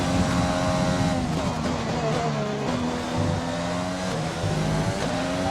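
Formula 1 cars in the game F1 2020 at the Austrian race, a loud, continuous high-pitched engine whine with shifting gear changes and revs as the car pushes through its final lap.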